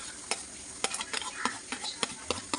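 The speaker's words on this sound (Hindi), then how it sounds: "पूरी कटी हुई प्याज डाल चुके हैं" Chopped onion fries in hot ghee and oil in a pan, with a steady background sizzle broken by sharp clacks of a spoon stirring at an irregular pace.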